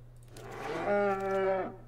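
A cow moos once, loud and drawn out for about a second, from the Bartered Cow card in MTG Arena during a Throne of Eldraine draft, over a steady low hum.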